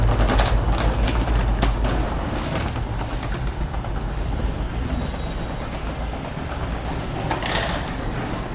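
A broad gauge VLocity train pulls into a station platform with a loud, continuous low rumble and rail noise, steady throughout with faint background sounds.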